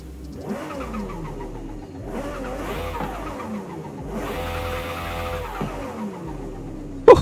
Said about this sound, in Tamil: டர்போ சவுண்ட் கைஸ் ஆக்சுவலா வேற லெவல்ல இருக்குது கேக்குறதுக்கு